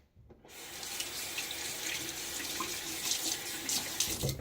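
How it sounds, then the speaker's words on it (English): Water runs steadily from a bathroom tap into a sink, a close and continuous splashing hiss that starts suddenly and goes on alone, added to shaving lather during a wet shave. "add a little bit more water to it."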